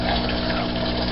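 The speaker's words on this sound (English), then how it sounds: "Pump's flowing." An aquarium sump return pump runs with water flowing, giving a steady, close, continuous rushing hum with no breaks over about a second.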